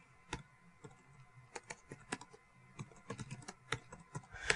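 Fingers typing on a computer keyboard nearby, soft irregular clicks and key taps in quick bursts with short pauses, quiet and close, no voices.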